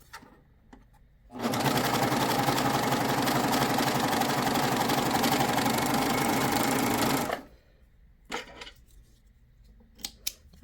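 A Funlock B48 coverstitch machine running a 4-thread coverstitch: a steady, loud mechanical whir held for about six seconds at a constant pace, followed by quiet handling clicks and no talk.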